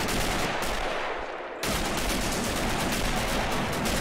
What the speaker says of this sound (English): A barrage of rifle fire now.